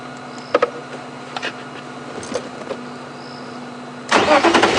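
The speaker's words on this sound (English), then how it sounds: "start the car, let it run" A safari vehicle at Djuma Game Reserve sits quiet with a steady hum and a few small knocks, then its engine cranks and catches loudly near the end, running on close to the microphone.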